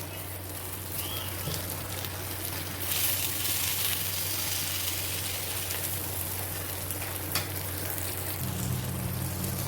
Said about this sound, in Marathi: आपले आता संगाळे देखील फ्राय मस्त झालेले आहेत